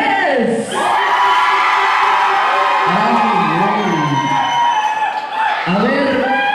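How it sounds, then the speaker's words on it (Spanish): A live audience at a contest show cheers, whoops and yells loudly for the contestants, a sustained crowd roar with children's shouts, dipping briefly before swelling again. "el grito para los concursantes número tres."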